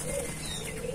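Zebra dove (perkutut korowelang) cooing: a short, soft, throaty coo heard close up, lasting under a second against a steady background hum.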